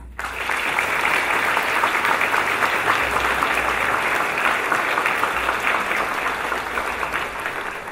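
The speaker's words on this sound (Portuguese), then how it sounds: "a quem pedimos uma salva de palmas" Audience at a Bahá'í community gathering in São Caetano do Sul gives a theatre director a sustained round of applause, a dense, even clapping that starts abruptly and holds steady throughout.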